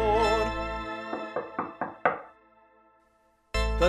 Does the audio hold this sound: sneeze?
no